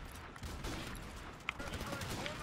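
A single sharp gunshot from a slow-reloading video game weapon cracks once midway through a busy, noisy game soundscape, with some talk underneath.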